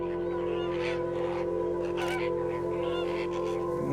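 A flock of birds taking off in the Camargue wetlands, with several honking, goose-like calls rising over a steady background hum, moderately near and overlapping.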